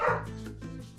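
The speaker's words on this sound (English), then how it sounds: "oh, that's the dog." A dog barks indoors, giving a few short, fairly close yips and woofs in quick succession, alone without talk.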